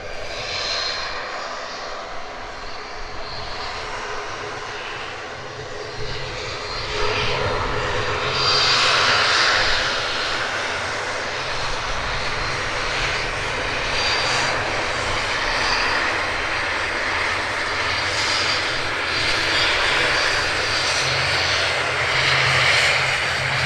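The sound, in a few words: Aer Lingus ATR turboprop aircraft engine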